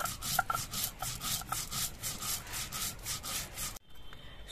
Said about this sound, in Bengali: এবার আমি এই ধুয়ে নেওয়া সর্ষেটা বেটে নিচ্ছি।